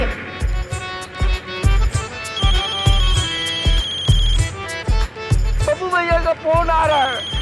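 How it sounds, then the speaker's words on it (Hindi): A mobile phone ringtone plays loudly in a repeating electronic melody with steady pulses, sounding over a few spoken voices from a Hindi television drama. "फोन आ रहा है।"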